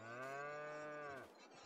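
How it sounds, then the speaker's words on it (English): A single cow moos in the Farming Simulator 22 video game on the Calmsden Farm map: a clear, drawn-out low moo lasting about a second, close and alone, with no talking. "that's one happy cow having a lie down"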